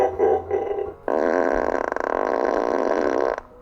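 A whoopee cushion fart effect plays from a 2022 Tesla Model Y Performance: a long, loud, buzzing raspberry lasting over two seconds, preceded by a short, muffled burst of sound.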